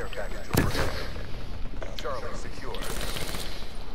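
Rapid rifle gunfire from the Man-O-War in the video game Call of Duty Black Ops 3, with a sharp burst early on and more shots mixed under constant game noise, while players talk over it.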